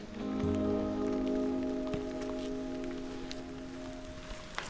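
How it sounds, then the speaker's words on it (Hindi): Heavy rain pours steadily on a Himalayan mountain pilgrimage trail to Madhyamaheshwar, with dense patter and drips, a low hum running underneath, no voices. "बारिश तेज हो चुकी है और तेज ही होते जा रही है।"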